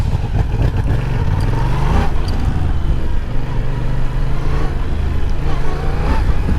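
A motorcycle being ridden, its engine droning loud and steady throughout with a continuous low rumble and no clear gear changes.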